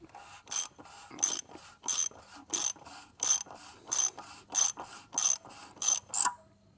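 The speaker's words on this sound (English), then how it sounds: "And then tighten it down till it won't turn." Ratchet tightening a part with a new seal during an oil change on a 2017-2019 Chrysler Pacifica, about a dozen evenly spaced loud clicking strokes up close, with no voice over them.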